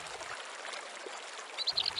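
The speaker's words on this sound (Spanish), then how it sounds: "El agua llama a detenerse antes de continuar la marcha. Escuchar ese murmullo." Soft, steady murmur of water at a lagoon in open country, a faint continuous trickling wash heard alone without voices.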